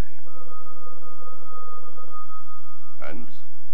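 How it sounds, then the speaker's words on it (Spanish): A telephone rings in a quiet room, a steady electronic tone holding for nearly three seconds in a 1950s-style courtroom drama setting, followed by a short voice or second burst near the end. "Su teléfono está sonando."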